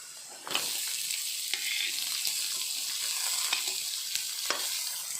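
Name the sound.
frying onion with garlic in a pan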